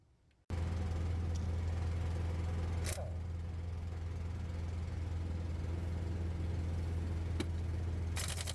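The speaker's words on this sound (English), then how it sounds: "Let that compressor build air for a second." An air compressor in a garage workshop during a 2009 Honda Pilot timing belt job kicks on after a brief quiet and runs steadily, a loud constant motor hum and whir building air pressure with no talking.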